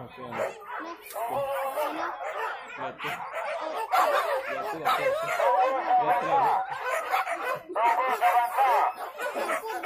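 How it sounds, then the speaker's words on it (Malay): Dogs bark and yip in quick bursts on a road near rice fields while people talk and laugh close by, with busy overlapping voices throughout. "Anjing masih banyak di jalan."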